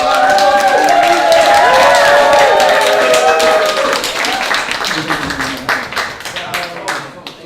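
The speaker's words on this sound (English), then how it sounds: "We have a round of applause for" Audience claps and cheers, loud at first under a bright melodic background, then thinning into scattered claps as it fades toward the end.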